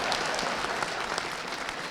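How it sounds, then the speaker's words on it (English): An audience claps steadily and densely throughout, a continuous wash of many hands at fairly close range with no voices over it. "Now someone claps for that."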